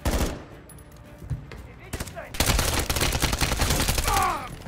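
Rapid enemy gunfire in Call of Duty Modern Warfare 3 on a maximum-difficulty campaign mission, with sparse shots giving way to dense, loud sustained automatic bursts that continue steadily to the end.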